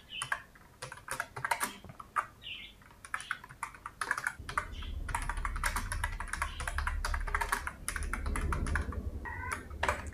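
Typing on a computer keyboard while entering text into an Excel spreadsheet: quick, close clicks of keystrokes in short uneven runs, continuing under a low background hum, with no speech.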